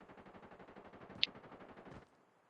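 Rapid automatic gunfire from a Call of Duty battle royale team match, a steady stream of quick shots about two seconds long with one sharper crack in the middle, fairly quiet, ending abruptly.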